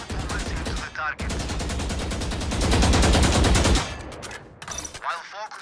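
A rifle in VALORANT emptying a full magazine in one sustained, rapid automatic burst, loud and close, cutting off sharply near the end, followed by a few brief faint sounds.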